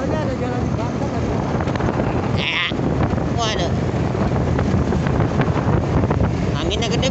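Strong wind buffeting the microphone while touring on a motorbike, a constant loud rumbling roar under voices talking, with brief higher wind whistles cutting through.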